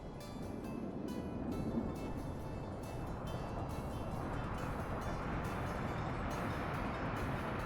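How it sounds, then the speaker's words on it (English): Train rumble from the Workers & Resources: Soviet Republic video game, a steady low rolling drone with faint clatter that stays even and moderately loud throughout, with no talking. "I want to make sure that this train is loading."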